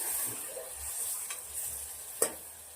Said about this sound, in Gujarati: હવે સરસ મજાની ગવારને મિક્સ કરી દઈશું